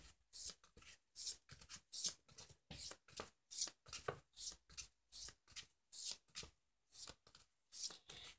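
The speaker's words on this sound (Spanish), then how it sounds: "Vamos a barajar las cartas." Tarot cards being shuffled in quick, regular bursts of crisp riffling, close and fairly soft, repeating steadily without talk.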